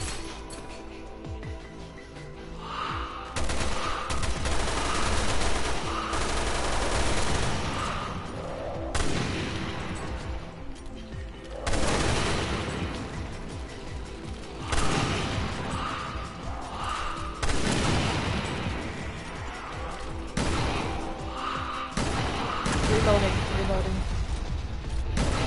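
Repeated bursts of gunfire in Resident Evil Revelations 2 Raid Mode, loud shot volleys and mechanical clacks arriving in clusters across the stretch, with players talking at times in between.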